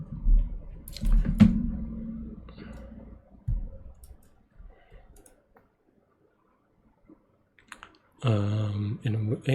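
Computer keyboard keys clicked in short, irregular bursts while code is typed, fairly close and crisp, with pauses between, ending with a brief voice at the close.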